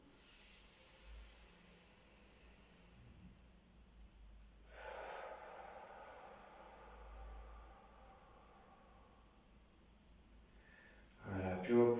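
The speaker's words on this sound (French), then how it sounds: "Une dernière respiration bien profonde." Slow, deep breaths during a Dao Yin yoga session, in through the nose and out through the mouth: soft airy inhales and exhales spaced several seconds apart, close and fairly quiet, with a louder breath at the end.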